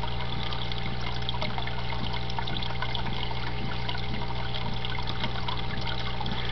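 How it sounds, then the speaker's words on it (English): Water siphons from a desktop aquaponics grow bed into the next bed, a steady low trickle and gurgle running continuously beneath a faint background hum. "it'll start to siphon out of this one and into the next bed."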